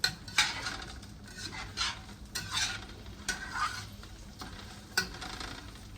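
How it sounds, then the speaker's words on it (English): Onions and vermicelli stirred in a frying pan, with scattered utensil scrapes and clinks over a light, steady sizzle, fairly close and moderately loud, no talking. "So now we're gonna kind of stir this up a little bit."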